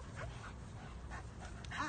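A shelter dog whimpers and pants softly at close range, with short whiny cries breaking through a low, steady background.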